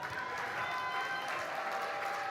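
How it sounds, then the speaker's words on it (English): Moderate, even clapping from an audience at a presidential declaration event, steady and somewhat distant over a faint tonal hum. "Please, a round of applause for them."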